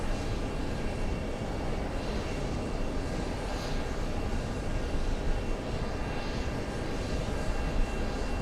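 A heavy Delta jet airliner on approach to runway 22, heard as a steady, broad engine roar that holds fairly loud and even throughout with slight swells, no voices present.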